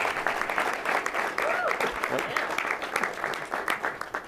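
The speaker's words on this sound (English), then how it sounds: "Please give them a round of applause" Audience applause at a business unveiling event at a convention center: a sustained round of clapping from a seated crowd, fairly even and moderately loud, with a faint voice briefly rising over it.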